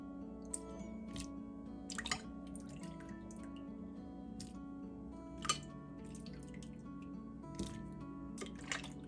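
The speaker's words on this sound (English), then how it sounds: "Now, I'm just gonna start scooping my potatoes in here." Soft wet clinks and drips as cooked potatoes are scooped into a pot for cheesy potato soup, a few sharper knocks standing out over a low, steady kitchen hum.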